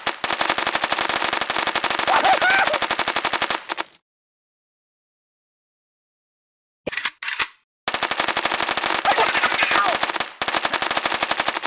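Rapid machine-gun fire at a shooting range in the Kick The Buddy game, two long sustained bursts separated by a silent gap and a couple of short bangs, loud and close.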